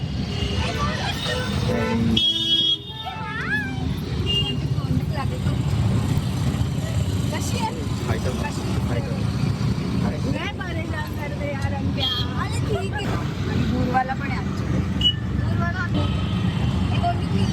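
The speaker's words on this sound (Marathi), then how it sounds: "खूप ट्रॅफिक आणि ते पण इतकं जाम आहे की गाड्या अजून हलताना दिसत नाही" Car horns toot again and again, near and far, over the steady rumble of a heavy traffic jam of stalled vehicles, while people talk throughout.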